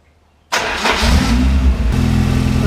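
A car engine cranks and catches after a moment of silence, then settles into a loud, steady idle close by.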